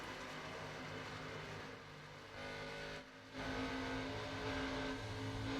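A stock car turning practice laps at Michigan in a sim racing game, its engine droning steadily at high revs with a brief dip in pitch and volume before climbing back to a loud, continuous roar.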